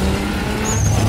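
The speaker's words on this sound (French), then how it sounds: "des moteurs qui font énormément de bruit" Loud car engines from Fast and Furious-style car racing films roar steadily and up close for about a second, with a thin high squeal rising over the rumble.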